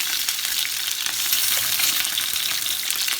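Eggs fry in hot oil for an egg curry, giving a steady, close, bright sizzle and crackle with no voices over it.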